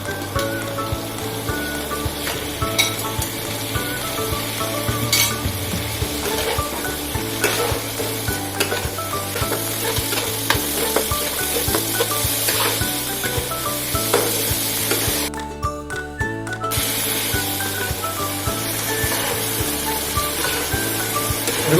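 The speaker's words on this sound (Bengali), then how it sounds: "এরপর আমি এর মধ্যে ভাজা পটলগুলো অ্যাড করছি।" Fried pointed gourd sizzles and crackles in spiced paste in a pan, with a steady frying hiss broken by repeated scraping stirs of a spoon, one brief pause midway, and no talking.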